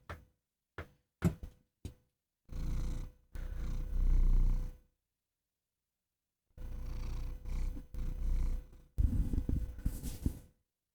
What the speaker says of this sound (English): He snuggle, he purr.